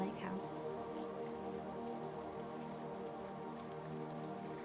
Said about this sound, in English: The sound of the rain outside was a gentle reminder of the world beyond the lake house.